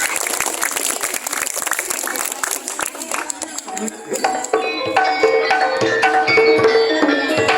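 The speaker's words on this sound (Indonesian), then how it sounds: "Beri tepuk tangan yang meriah." Audience clapping at an elementary school arts performance and market day, a dense burst of applause mixed with crowd noise and voices, giving way to music and chatter in the second half.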